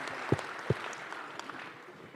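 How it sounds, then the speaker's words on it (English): Audience applause at a large world summit conference, a soft sustained patter of clapping from the crowd with two sharp thumps near the start, fading slightly toward the end. "can we have a very warm of applause for Mr. Narayan Murthy?"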